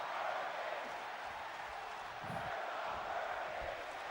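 Video game crowd noise from a WWE 2K wrestling match: a steady, dense wash of arena crowd roar with faint chanting, even and continuous throughout with no clear voices standing out.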